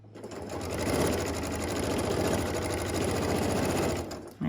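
A sewing machine stitches fabric squares together, its needle whirring in a steady fast rhythmic drone for about four seconds before stopping.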